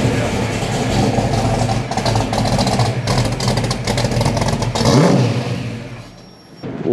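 The Hemi engine of a Plymouth Cuda revs loudly close by, rising and falling in several throttle blips before dropping toward a rumbling idle near the end.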